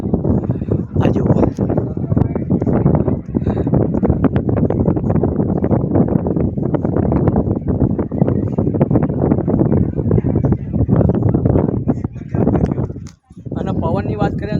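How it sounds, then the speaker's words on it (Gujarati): Strong wind buffets the microphone on a hilltop at the Pavagadh temple, a loud continuous roar with gusty surges filling nearly the whole clip before a brief lull near the end. "પવનની વાત કરીએ તો તમને સ્પીકરમાં સંભળાતો જ હશે કે કેટલો પવન ચાલુ હોય"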